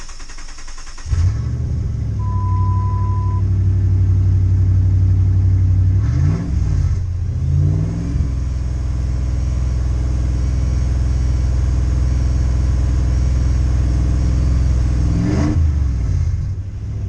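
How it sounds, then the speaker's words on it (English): Truck engine cranking and catching, then settling into a steady loud idle with two sharp revs partway through, close and sustained, no talk over it. "The truck should start right up."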